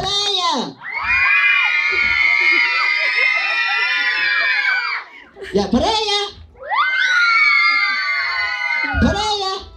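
At a birthday party, a crowd of children lets out two long, high-pitched shouts and cheers for a girl, loud and close, with a brief spoken call between the two bursts.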